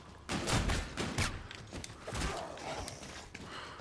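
Gunfire in the Call of Duty: Infinite Warfare Zombies in Spaceland mode comes as a few muffled, low-level shots among busy game noise, with no speech.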